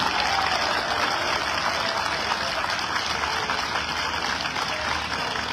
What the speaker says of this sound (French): applaudissez les forces de sécurité